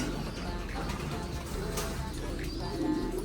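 Hungry pigeons in a backyard loft coo softly and repeatedly amid steady background noise and scattered chirps, while someone talks over them.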